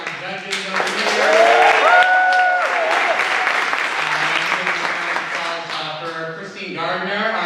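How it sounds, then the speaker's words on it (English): An audience at a Last Scot Standing show claps for the judges in steady, full applause with cheering and shouted voices over the top, swelling early and then easing into a continuing patter. "Another round of applause for our judges over here."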